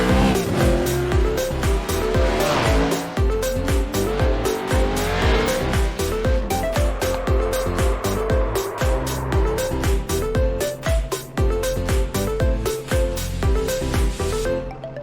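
NASCAR race cars lap Atlanta Motor Speedway in the iRacing video game, with close, continuous engine drone, shifting revs and recurring tire squeal.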